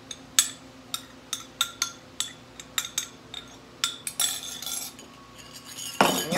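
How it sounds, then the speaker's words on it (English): A utensil repeatedly clinks and scrapes against a bowl while stirring all-purpose flour into a dough mixture for homemade yeast rolls, giving a steady series of close, distinct taps with no talking. "all we got to do now is gradually stir our flour into it"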